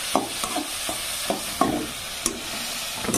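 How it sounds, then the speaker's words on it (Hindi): Potatoes fry in a pan in a North Indian village kitchen, a soft continuous sizzle broken by irregular scraping taps of a spoon stirring them, close and with no talk. "अभी इसको फ्राई होने देते हैं"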